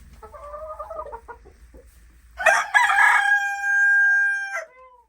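Canadian Bresse chickens: soft clucking from hens at first, then a loud, close rooster crow, a long drawn-out cock-a-doodle-doo lasting about two seconds before tapering off.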